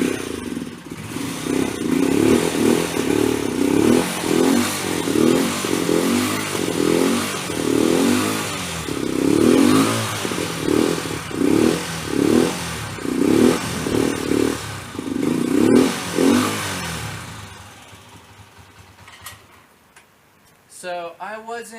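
A modified Honda CGL 125 motorcycle engine revs in repeated rhythmic bursts with ticking, clattering mechanical noise, close and loud, then settles and fades to quieter sounds near the end.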